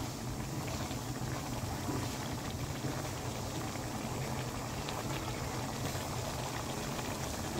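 Pork adobo with cassava and egg simmers in a pot, giving a steady, close bubbling boil that runs without a break and with no talking.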